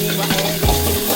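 Shrimp are stir-fried in a pan at a Chiang Mai Thai cooking class. Close, continuous sizzling runs under scraping stirs, with a short clatter of utensil against the pan midway. No speech.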